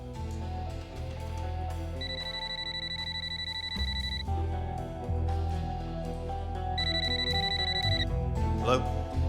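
A telephone rings twice, an electronic trill in two bursts about five seconds apart, over a low, steady musical bed with no talk.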